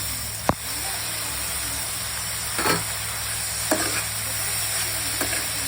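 Spinach being stirred into fried onion and tomato in a frying pan for North Indian palak dal: a steady bright sizzle with a few sharp spoon scrapes and knocks against the pan, and no talking.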